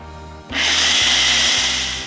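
Blender running on a strawberry lime ice cream mixture: a motor hum surges into a loud, steady whirring blend, close and alone, easing slightly at the end.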